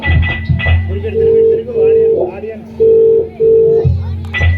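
A telephone call goes unanswered, with repeated ringback tones in even bursts over a low steady hum, loud and close.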